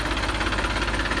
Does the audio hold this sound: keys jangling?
no